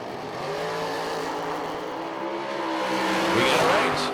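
Drag race cars run side by side down the strip at a summer bracket-racing event, a sustained engine roar building toward the top end with rising and falling whines, loud and continuous.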